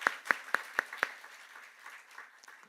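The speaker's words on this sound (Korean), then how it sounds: "우리 찬양대에게 다시 한번 감사의 박수 드립니다" A church congregation claps for the choir at a Sunday service: five distinct, evenly spaced claps ring out first, then scattered softer clapping fades away in a reverberant hall.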